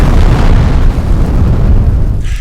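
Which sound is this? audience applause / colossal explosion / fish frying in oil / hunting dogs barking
colossal explosion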